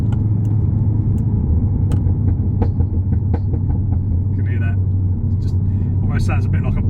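Audi TT with a custom valved quad exhaust on overrun, a steady loud rumbling drone from inside the car with a few faint crackles and pops near the end.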